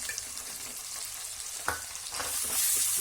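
Ginger garlic paste frying in a pan for street-style tawa pulao, a steady sizzle with occasional sharp scrapes of a stirring spoon, growing slightly louder toward the end.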